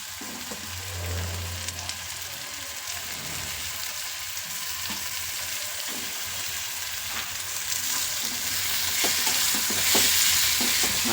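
Paneer cubes fry in a pan with a steady, close sizzling hiss that grows slightly louder toward the end, dotted with faint crackles and a few light stirring taps, and no talk.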